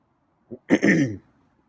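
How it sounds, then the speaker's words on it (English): A person with a sore throat gives a short throat-clearing cough: a faint catch, then one harsher, rough burst lasting about half a second, close and alone. "So my sore throat seems to be turning into a cough."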